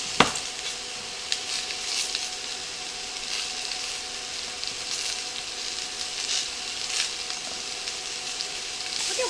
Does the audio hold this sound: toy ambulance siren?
no